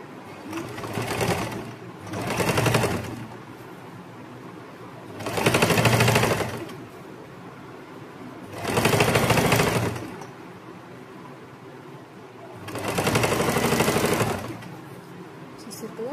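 A sewing machine top-stitches kurti lining near the pocket sides in bursts of steady, rapid mechanical whirring. Four loud stitching runs are separated by quieter pauses, with light background noise between them.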